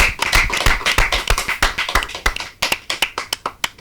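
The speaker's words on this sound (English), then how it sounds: "A round of applause for the contestants." Applause for quiz show contestants, a small group clapping in a brisk, uneven patter that thins into scattered individual claps toward the end.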